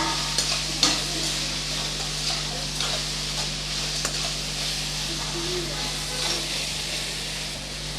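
Brinjal sautéing in a pan with curry leaves for a thokku side dish gives a steady close sizzle and hiss, with occasional stirring clicks and scrapes over a constant low hum.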